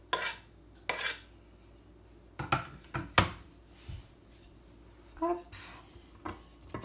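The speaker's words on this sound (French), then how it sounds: "Je vais prendre une petite spatule en bois. Je vais mettre mes oignons." Onions tossed into a heating pan on a stovetop and worked with a small wooden spatula, giving several sharp knocks and scrapes in an uneven rhythm, close by, with a short spoken word between them.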